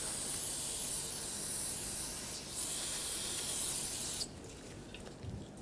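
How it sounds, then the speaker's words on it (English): Brake parts cleaner sprayed onto the rear brake of a 2009-2011 Ford F-150, a loud steady aerosol hiss lasting about four seconds, then cutting off into quieter handling noises. "I'm just going to clean everything up with a brake parts cleaner."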